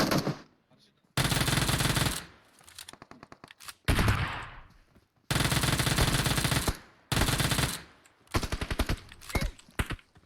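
Bursts of automatic gunfire from PUBG Mobile, several loud sustained volleys of rapid shots broken by short pauses, with scattered single shots near the end and a voice speaking faintly between bursts.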